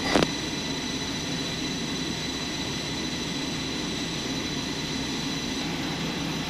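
Steady, dense roar of an F-4E Phantom jet engine spooling with external airflow during startup in the DCS flight simulator, holding constant and loud throughout with no speech.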